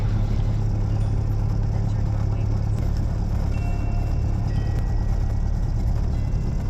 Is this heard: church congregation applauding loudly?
no